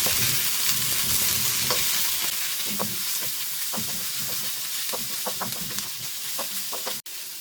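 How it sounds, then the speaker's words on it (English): Onions and long carrot strips fry in a pan with a steady, close broadband sizzle throughout, while a utensil stirs with scattered scraping clicks and taps over the top. "Add carrot cut into long strips. Fry for a minute."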